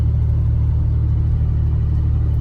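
A Chevrolet S10 4x4 pickup drives along after a radiator replacement, a steady loud low engine rumble and road drone filling the cab without a break.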